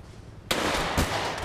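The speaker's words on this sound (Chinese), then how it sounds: "他开枪了。" Gunfire in the video game GTA V during a SWAT police raid: a sudden loud burst of shots begins midway and carries on as a dense, rattling roar with a second strong hit, with no speech over it.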